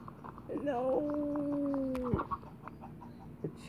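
A single drawn-out chicken call in a video game, with a long steady tone, sounding once over quiet background clatter.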